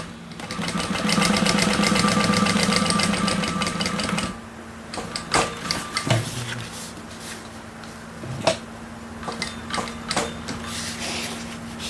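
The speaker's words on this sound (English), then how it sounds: "we're just going to base the raw edges and top stitch that bottom" A sewing machine topstitches the bottom edge of a Lyra bag. A fast, steady whirring stitch runs for several seconds, then stops, followed by scattered clicks and handling noises.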